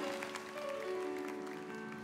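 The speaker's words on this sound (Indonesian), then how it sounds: "Haleluya berikan tepuk tangan untuk Tuhan sekali lagi" A church worship service audience gives brief, soft applause for two seconds, a quiet continuous patter under held organ-like music tones.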